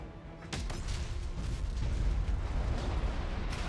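Heavy rumbling crash of a building collapsing in the BattleTech mech game, a sharp impact followed by a sustained low roar of debris with scattered bursts, loud and close throughout.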